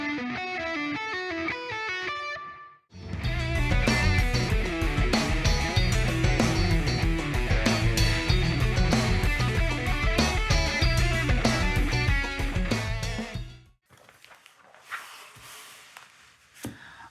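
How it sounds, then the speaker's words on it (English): Electric guitar plays an ascending triplet line in a basic pentatonic shape, quick picked notes over a loud full band backing, then the band cuts out and only faint, scattered sounds follow. "The third one is played in the basic pentatonic shape, and it's made out of triplets, and it's also a ascending line"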